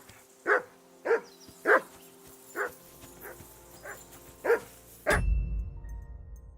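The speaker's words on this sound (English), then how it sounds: "Be quiet, you flea-bitten hound." A dog in Kingdom Come: Deliverance II barks in a steady series of eight sharp, evenly spaced woofs, then breaks into a whimpering whine as a low rumble rises underneath.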